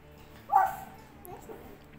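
A voice imitates a dog with one short yelping bark, followed by a softer second sound, close and fairly quiet against a hushed room.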